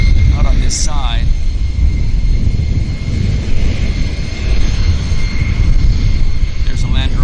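A plane landing on the north side at Vancouver YVR airport rumbles as a steady, loud, broad engine roar heard from a distance, while occasional bird chirps come through over it.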